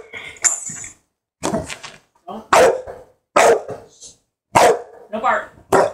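A pit bull barks repeatedly in short, loud bursts close by, with pauses between, while people speak intermittently.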